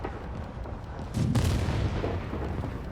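Artillery fire booms in a modern World War 3 multiplayer first-person shooter, with one heavy blast partway through standing out over a constant rumbling battlefield backdrop.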